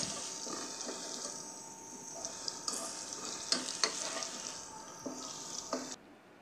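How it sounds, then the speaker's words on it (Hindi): White cumin and nigella seeds frying lightly in a pan for curry pakora, giving a steady soft sizzle with a few scattered clicks and stirring scrapes, close and continuous, stopping abruptly near the end. "अब दोनों को हम हल्का सा भून लेते हैं, सफ़ेद ज़ीरा और कलौंजी को"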